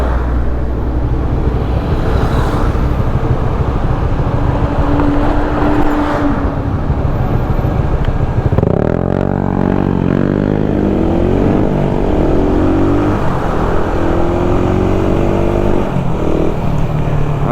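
Congested traffic with trucks and cars crawls along a bypass road, heavy engines idling and revving nearby with a continuous roadway rumble and a vehicle accelerating partway through.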